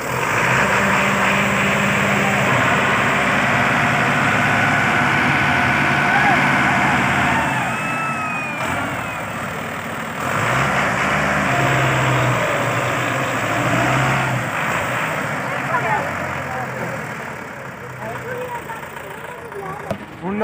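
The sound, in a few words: tractor engine pulling a stuck trolley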